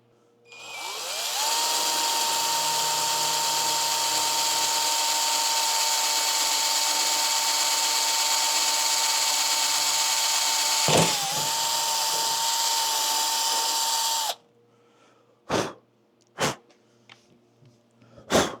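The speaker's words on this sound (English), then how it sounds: "I'm just going to kind of drill these out" A power drill whines steadily for about thirteen seconds while drilling holes for a ham radio antenna, dipping briefly mid-run, then stops, followed by a few sharp knocks and clatters.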